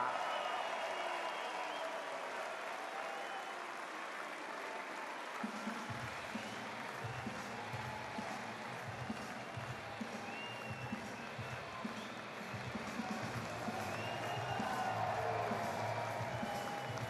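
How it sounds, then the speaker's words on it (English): A large arena crowd at a timber sports team world championship applauds and cheers steadily for the Austrian team, a dense wash of clapping that holds throughout, with a low rhythmic music beat joining partway in. "Please make some noise for Austria!"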